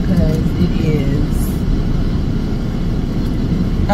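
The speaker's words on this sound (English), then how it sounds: "Y'all can probably hear this air blaring in this car" Steady, loud blast of air from a car's air conditioning on a 105-degree day fills the cabin as a constant broadband hiss and rumble, with someone talking over it.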